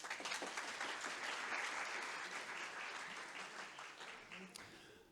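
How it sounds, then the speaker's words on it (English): An audience at an evening student presentation on US history breaks into sustained applause, a dense, even clatter of many hands that slowly tapers, with faint voices underneath. "Can everyone give a round of applause?"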